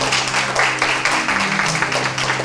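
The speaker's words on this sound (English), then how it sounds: "that deserves a round of applause" An audience claps in a sustained, dense round of applause during an interview event, steady and fairly loud throughout.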